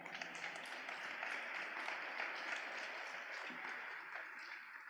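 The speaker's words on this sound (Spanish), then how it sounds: "¿Puedes darle un aplauso a papá Dios?" A church congregation applauds during a sermon, a dense, even wash of many clapping hands held steady for around five seconds, fairly near and without speech on top.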